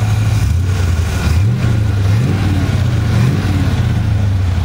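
A car engine hums at idle, then revs up briefly in a few quick rising bursts before settling back to a steady drone.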